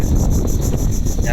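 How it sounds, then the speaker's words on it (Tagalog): Strong wind by the sea buffets the microphone in a continuous loud roar with fluttering gusts, and a faint high chirping rides on top. "Napakalakas ng hangin dito."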